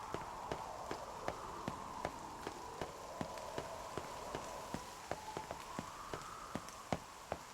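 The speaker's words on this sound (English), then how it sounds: "Oh, it's raining." Steady rain in the video game NieR Re[in]carnation falls with a soft hiss, with regular sharp drip ticks pattering throughout, fairly quiet and without voices.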